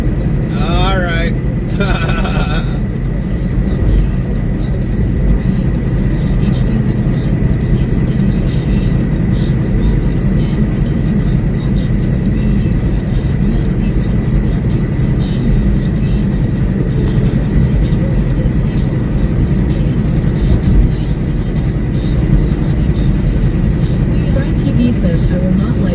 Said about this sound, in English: It's interstate traffic.